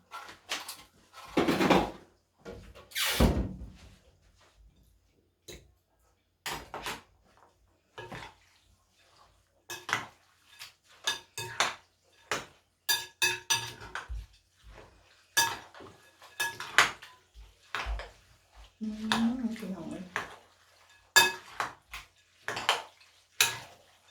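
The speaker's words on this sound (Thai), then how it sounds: "ตัดน้ำตาลก่อนพี่น้อง" Palm sugar is cut in a home kitchen with scattered sharp knocks and scraping clatters of a knife, board and utensils, coming in irregular bursts with quiet gaps between.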